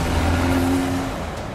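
A Volkswagen Golf R engine holds a steady, loud rev with a strong low drone and a brief tonal whine, heard close and alone for a short moment.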